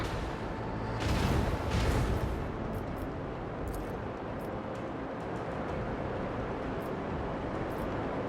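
Macro cannon volley aboard a space station raid in Warhammer 40000: Rogue Trader, a pair of heavy booming blasts early on, then a rumbling, crackling battle ambience that fades into steady background noise.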